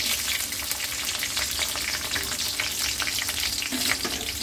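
Dried red chili and onion fry in a pan of hot oil, a loud, steady, close sizzle that crackles on without pause and with no voices.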